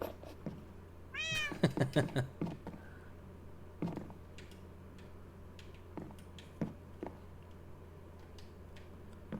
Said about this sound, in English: our cat is hiding here.